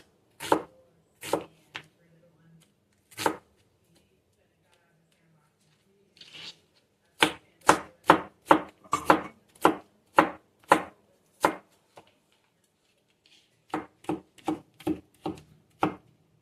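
A knife chopping an onion on a cutting board, crisp close thuds in short bursts: a few scattered cuts, then a quick run of about a dozen evenly spaced chops, then another brisk cluster after a pause.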